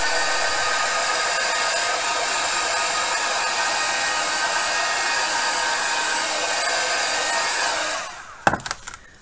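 A heat tool blows steadily and loudly while heat-setting fabric on an altered box, a constant close whooshing hum that cuts off near the end, followed by a few sharp knocks.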